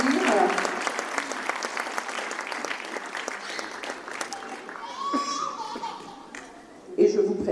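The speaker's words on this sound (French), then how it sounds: "Et je crois qu'on peut les applaudir." An audience at a French town's New Year greetings event claps in a dense, lively burst, with scattered children's voices and light laughter mixed in before the clapping thins out near the end.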